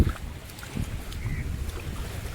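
A fishing boat passes on a river during cast-net fishing, heard as a low rumbling drone mixed with wind and water noise at moderate distance.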